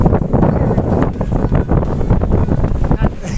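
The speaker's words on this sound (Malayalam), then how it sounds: "കാറ്റാണ്, ഭയങ്കര കാറ്റാണ് കേട്ടോ" Strong wind blows hard across a scenic viewpoint, buffeting loudly and unevenly against the microphone in gusty rumbling bursts throughout, with no voices heard.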